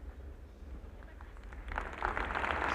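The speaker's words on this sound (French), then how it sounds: "sous les applaudissements du public." Audience applause at a gymnastics competition in Paris-Bercy arena, beginning as a faint patter and swelling to a fuller, steady ovation by the end.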